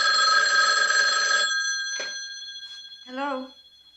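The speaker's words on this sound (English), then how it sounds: "Carol Kane is the babysitter, and she's getting phone calls" A telephone rings in a horror movie scene: a steady electronic trill for about a second and a half, then a fading tail and a short tone as the line is picked up.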